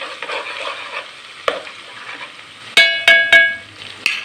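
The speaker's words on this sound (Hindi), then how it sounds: "इसको भी थोड़ा सा हमने इसमें 10 सेकंड के लिए ब्राउन करना है ताकि इसमें लहसुन का टेस्ट भी आ जाए और लहसुन भी पक जाए" Garlic paste frying with browned onions in a pan for an aloo tinda sabzi, a steady soft sizzle broken by several sharp clinks and scrapes of a spoon stirring against the pan.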